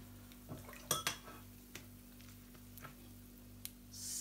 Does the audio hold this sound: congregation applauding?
no